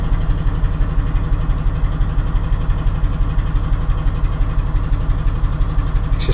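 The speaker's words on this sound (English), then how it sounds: "Huge American engine." A huge American diesel freight locomotive idles at Barnetby Station, its engine throbbing in a steady, close, low rhythmic pulse that continues unbroken throughout.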